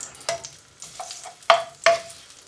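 A single garlic clove sizzles in a hot pan for a mushroom chop suey, with a soft frying hiss broken by four or five sharp scraping stirs of a utensil against the pan, close and clear.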